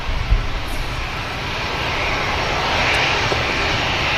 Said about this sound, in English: We've got an EasyJet lining up as well.